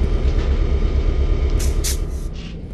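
A heavy Milwaukee Road Little Joe EF4 electric locomotive rumbles steadily at close range, backing up at Avery substation 14, with a deep low drone and a few brief hissing bursts of air near the end.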